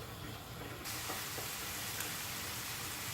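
Ground beef with onions frying in a pan for homemade tacos as garlic goes in, with soft continuous sizzling that steps up slightly after a moment, quiet and without speech.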